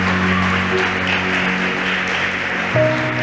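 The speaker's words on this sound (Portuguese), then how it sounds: "Dê a sua melhor salva de palmas ao Senhor." A church congregation claps steadily as a dense, continuous wash of applause through a worship service, with sustained musical tones ringing underneath and a shift in the backing chord near the end.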